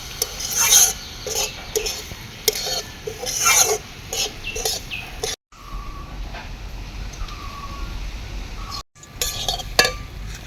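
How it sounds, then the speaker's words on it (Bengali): A spoon stirs semolina upma in a pan, scraping and clinking against the metal in repeated strokes with brief pauses, close and fairly loud. "অনবরত নাড়তে হবে।"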